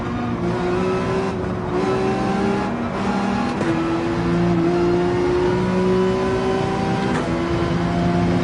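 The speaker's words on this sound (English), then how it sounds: "Oh, that sounds like an AMG." A Mercedes AMG race car engine in Gran Turismo 7 drones steadily at high revs, with the pitch rising and falling through gear shifts, loud and continuous, with other cars faintly in the mix and no talking.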